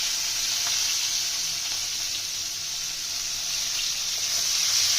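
Chopped onions fry in hot oil in a pan for a Bengali mustard and poppy seed fish curry, giving a steady, close, loud hiss and sizzle that holds evenly throughout with no talk.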